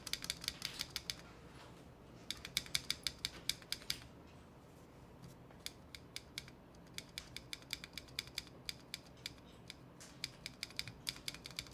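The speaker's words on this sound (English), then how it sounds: "I feel like there's a clack or tick." Mechanical keyboard switches clack and tick in quick irregular bursts during a Devastating TKL keyboard build with HMX KD200 switches, sharp close clicks with short pauses between runs.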